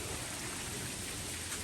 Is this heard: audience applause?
no